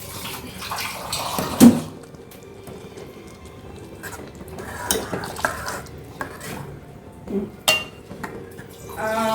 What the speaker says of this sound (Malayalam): ഇനി നമ്മൾ ഇളക്ക്